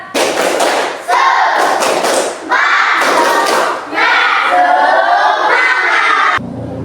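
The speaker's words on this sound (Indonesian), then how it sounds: "Coba, tepuk semangat." A classroom of students claps in unison in a loud, rhythmic spirit-clap pattern, with bursts of rapid claps separated by short pauses and voices joining in.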